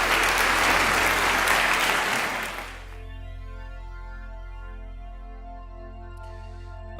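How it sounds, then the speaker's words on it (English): Loud, dense applause from a group fills the opening few seconds, then cuts off abruptly, leaving a steady tonal hum for the rest. "we deserve a round of applause"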